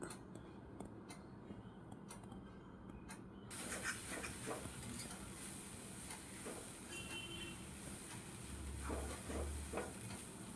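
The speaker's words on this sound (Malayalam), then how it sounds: "ഇതിലേക്ക് തയ്യാറാക്കി വെച്ചിരിക്കുന്ന അരപ്പ് ഇതിലേക്ക് തട്ടി അതും കൂടി എല്ലാം കൂടി ചേർത്ത് ഒന്ന് ഇളക്കി കൊടുക്കുക" Beetroot and horse gram thoran with coconut paste being stirred in a pan gives a faint, soft sizzle with scattered light scraping and taps of a spoon, quiet and close, no talk.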